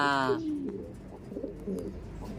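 A pigeon coos softly and low, with a short harmonic call at the start and faint ambient noise.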